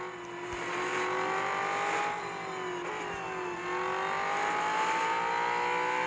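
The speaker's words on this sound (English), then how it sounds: "Let's hop back inside and hear that engine roar" A Brabham BT62 V8 race car engine in a video game roars steadily as it revs up and shifts through gears, loud and continuous, with pitch rising and dropping at each change.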